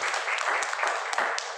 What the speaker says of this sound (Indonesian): Tepuk tangan sekalian.